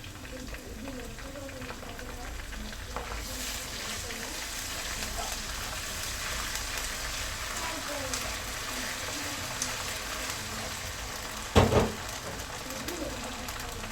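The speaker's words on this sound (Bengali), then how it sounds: "এখন পেঁয়াজটা ভাজা ভাজা হয়ে গেছে। এখন আমি আদা রসুন দিয়ে দিব" Browned onions in a pan of oil with ginger and garlic just added for a rohu fish head curry, giving a continuous moderate sizzle and crackle close up, with occasional faint speech and a brief stir clatter near the end.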